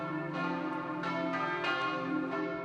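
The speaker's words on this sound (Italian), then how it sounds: "Il suono delle campane rimbomba sul sagrato e rompe un silenzio carico di dolore e interrogativi" Church bells toll slowly and steadily at a funeral for a young girl in Silea, their deep resonant strikes overlapping in a continuous ringing wash.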